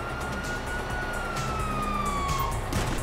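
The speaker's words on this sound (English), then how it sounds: "Oh, fuck, you hear that? Sirens!" Police car sirens wail in the GTA V video game, a steady rising and falling electronic tone held for about three seconds over a dense background rumble, with no voices.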